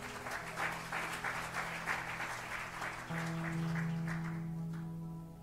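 Congregation clapping along during an online church worship service, steady rhythmic applause over sustained organ or keyboard tones, moderately loud and continuous.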